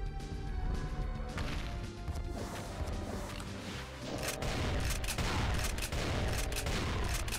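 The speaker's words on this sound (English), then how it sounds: "The grenades are like just bouncing down the stairs" Grenades in Doom 2 (Godless Night map) clatter and bounce down a stairway amid loud, continuous gunfire and crashing impacts, with sharp repeated hits and bursts layered over dense battle noise throughout.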